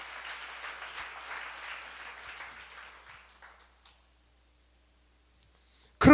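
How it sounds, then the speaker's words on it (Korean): Applause from an audience at a church seminar fades gradually over several seconds into near silence, the clapping dense at first then thinning out before a sudden loud knock at the very end. "박수 하시고"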